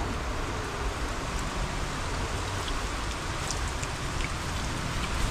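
Steady rain pours down in a dense, even hiss, with scattered drops pattering on nearby surfaces throughout.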